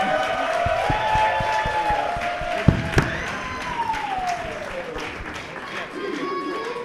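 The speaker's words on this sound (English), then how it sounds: "Big round of applause" Studio audience applause during a live esports show about a TSM versus TL match. Scattered clapping runs under a host's voice, with a couple of sharper claps near the middle.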